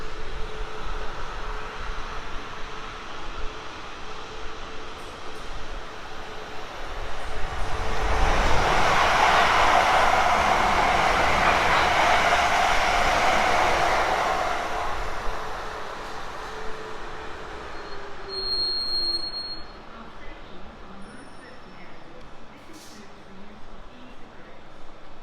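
A train passing through Winchfield station on the South Western Main Line, a broad rushing roar that swells to a peak midway, then fades as it recedes, with faint rail squeal and ambient background.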